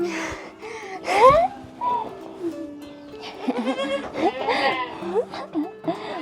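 Several high, wavering baby goat bleats, close and fairly loud, with a soft voice murmuring between them.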